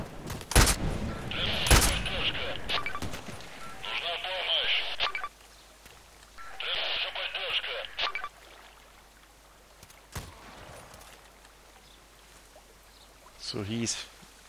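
Sniper rifle fire in the online shooter Contract Wars on the Lighthouse map, a few sharp cracks early followed by bursts of distant gunfire and rumbling noise, with quieter gaps between.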